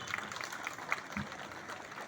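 Audience at a Republic Day celebration hall clapping, a faint, thin spread of applause with scattered distinct claps, fairly distant and low in level.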